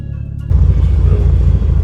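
A vintage rear-engine rally car rumbles hard at a rally stage, its engine note bursting in loud and close after a brief quieter moment, then holding a throaty, revving drone.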